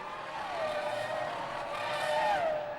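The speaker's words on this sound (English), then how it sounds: "He spins in the final turn, dropping 4 places." Formula 1 car driven by Montoya spinning in the final turn at a 2003 race, its engine note swooping down and then rising again against a steady roar of other cars, loud and sustained.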